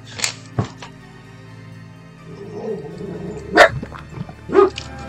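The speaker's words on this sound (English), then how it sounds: "if you can hear a dog growling and barking in the background," A small dog growls and barks in the background, a few sharp yaps spread over several seconds with a low growl between, not very loud.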